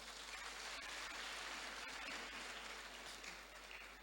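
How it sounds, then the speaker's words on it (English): Steady, dense applause from the audience at a youth empowerment summit fills the whole stretch at an even level, easing slightly toward the end, with no talking over it. "Clap for yourselves."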